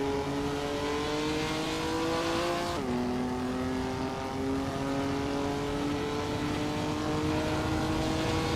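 A 1959 Chevrolet Corvette C1 engine revs steadily in a racing video game on a Dubai track, holding a rising harmonic drone that drops sharply once near three seconds, like a gear change, then climbs again, loud and continuous with no talk.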